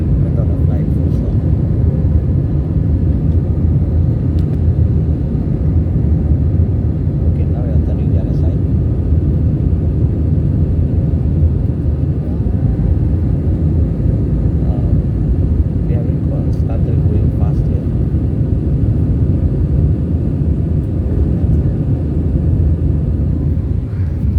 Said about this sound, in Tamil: நீங்கள் நைட் டைமில் ஃப்ளைட்டு மேலே ஏறுறதை பார்த்துருப்பீங்க